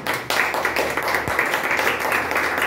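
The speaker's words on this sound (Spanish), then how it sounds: "Entonces le damos un aplauso a ella." A small group of people applauding during a religious talk, a loud burst of dense clapping starting abruptly and continuing steadily for a couple of seconds, close and without speech.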